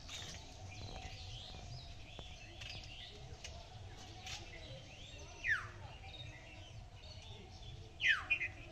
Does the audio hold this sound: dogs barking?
no